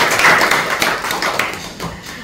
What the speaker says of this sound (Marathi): ते सगळ्या बाबा लोकांसाठी टाळ्या